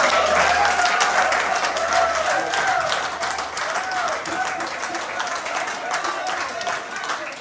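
Audience applause following a speech at a 2024 Brainerd graduation ceremony, steady dense clapping filling the whole stretch with crowd murmur and cheers mixed in, holding at an even level.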